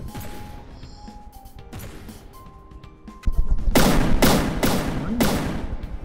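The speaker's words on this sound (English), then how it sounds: "There goes the missile volley. Boom, boom, boom, boom, boom." Rapid burst of loud explosive blasts from a missile volley in the naval combat game From the Depths, several heavy booms in quick succession after a quieter stretch of low rumble and faint tones.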